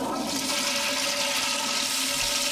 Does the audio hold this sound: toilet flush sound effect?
yes